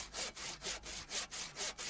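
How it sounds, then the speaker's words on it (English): Triangular frame hand saw cutting off excess wood from a log cabin timber, steady back-and-forth rasping strokes of about four per second, close and fairly quiet, with no voices. "then the excess wood was cut off using a triangular frame"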